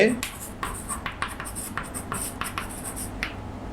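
Chalk or marker writes on a board during a tenth-grade math class, with quick scratchy strokes in irregular bursts and taps, close and clear, while someone talks in between.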